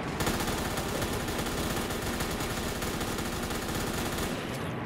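Light machine gun fire in Black Ops 3 Custom Zombies on a Minecraft Sand Islands map: a loud, sustained, rapid stream of shots that runs unbroken for about five seconds and then cuts off.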